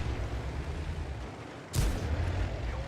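A single heavy shell impact slams a Type 62 tank in World of Tanks, likely from a Jagdtiger, a sudden loud boom over the steady low rumble of the engine.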